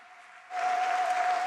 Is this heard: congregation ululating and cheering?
yes